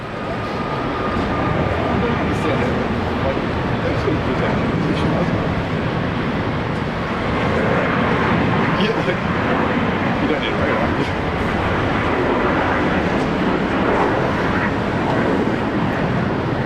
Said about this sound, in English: This one is a Maxi 737 Max 8 Fiji Airways going back home to Nandi, Fiji